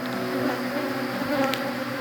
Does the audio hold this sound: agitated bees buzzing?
yes